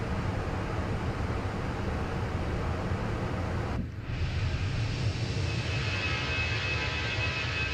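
A Fenix A320 airliner's jet engines in Microsoft Flight Simulator give a steady, loud broadband roar that fills the whole stretch, with a brief dip midway before the drone resumes evenly.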